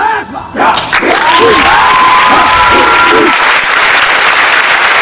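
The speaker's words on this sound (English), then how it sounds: "Mike McCarthy gets an applause from me." A burst of crowd applause with cheering swells in after a brief pause, with a whistle gliding over the dense clapping, which stays loud and steady for several seconds.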